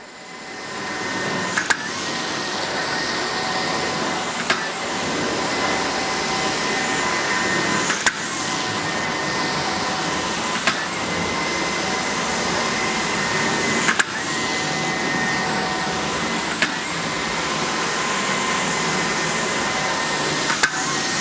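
A carpet cleaning extractor makes dry passes over an old carpet, a loud steady vacuum whine running throughout, with a soft click at the end of each stroke every few seconds.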